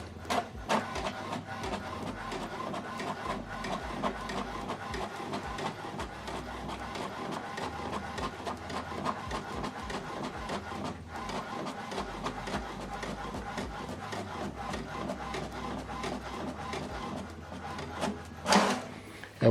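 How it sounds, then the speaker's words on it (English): An HP Deskjet 4200e inkjet printer runs a double-sided print job, its print head shuttling back and forth in a steady stream of rapid mechanical clicks and whirs, with a louder paper-feed rustle near the end. "So this is how to print document from computer to this printer, double-sided."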